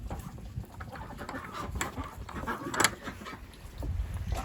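Ducks quacking and complaining near the microphone in the rain on a small organic farm, choppy overlapping calls over a constant wash of rainfall.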